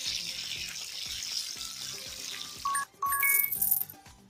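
Water splashes and runs while a sofa gets washed in a kids' jungle animal hair salon game, a soft watery hiss with light clinking chimes near the end, fairly quiet, with no talking.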